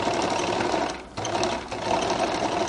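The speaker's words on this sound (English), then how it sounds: "where I just finished sewing my stitch." A sewing machine stitches a flared skirt, running in a steady, close mechanical whir that dips briefly about a second in before resuming at full speed.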